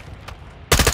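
Sniper gunfire in an online military shooter: a faint crack early on, then a loud, broad burst of shots close by in the last moments.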